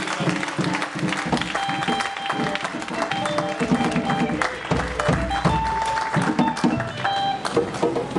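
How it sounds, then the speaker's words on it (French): Clapping and cheering fill a church service congregation's sanctuary, dense and continuous throughout, with voices mixed into the crowd noise. "Applaudissons tous pour la gloire de l'Éternel."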